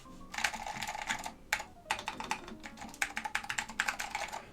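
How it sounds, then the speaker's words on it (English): A Northgate Omnikey Ultra-T keyboard with Alps SKCM Cream switches clatters under steady typing, bursts of crisp clicky keystrokes with a short pause, close and fairly quiet. "it sounds like an old school keyboard"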